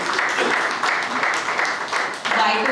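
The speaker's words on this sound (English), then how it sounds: "Can we have a big round of applause for Joseph, sir" A room claps for Joseph Martin at a media and soft launch event, steady applause with a short lull before swelling again, with voices mingled in.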